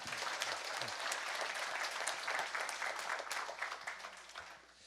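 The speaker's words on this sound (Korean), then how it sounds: "박수로 맞아주시기 바랍니다" An audience at a Korean academic seminar on education breaks into steady applause to welcome a professor stepping up as discussant, a dense, even wash of many hands clapping throughout before tapering slightly at the end.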